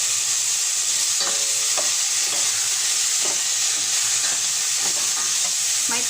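Garlic sautéing in hot oil for a mussel soup, a steady loud sizzle and hiss with occasional soft stirring scrapes, close and continuous.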